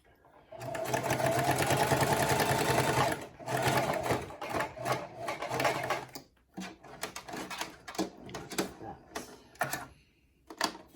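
A Singer Classic sewing machine hems a pair of pants, running in a steady loud whir for about three seconds, then stitching in short stop-start bursts with brief pauses between them.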